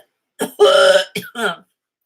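A few short, harsh coughs burst out close by in quick succession, with brief pauses between them.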